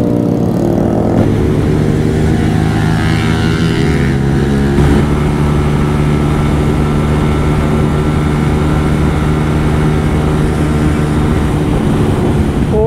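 KTM RC 200 motorcycles setting off and accelerating, a loud, steady engine drone that climbs in pitch through the gears, heard close and continuous with strong wind rush.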